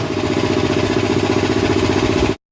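A 2 hp single-phase BAC air compressor runs with a loud, close, rapid pulsing chug, then cuts off abruptly near the end.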